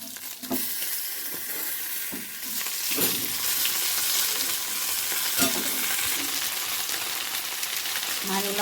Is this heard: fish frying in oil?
yes